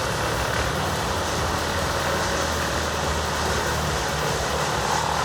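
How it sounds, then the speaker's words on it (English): A WC2500XL whole tree wood chipper runs with a loud, dense, unbroken roar of engine and drum, continuous and steady throughout with no pauses. "WC2500XL whole tree chipper."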